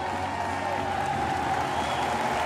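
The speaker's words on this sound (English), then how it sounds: "Great cheer from the French fans." French supporters cheer at the women's Olympic handball final between France and Russia in Rio, a dense, steady roar of crowd noise and applause filling the arena throughout.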